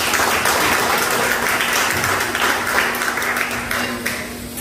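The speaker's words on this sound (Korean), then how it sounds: "우리 최 교수님한테도 박수 한번 부탁드리겠습니다" Applause at a fifth-anniversary community forum festival, a dense continuous round of clapping from an indoor audience, steady and fairly loud throughout.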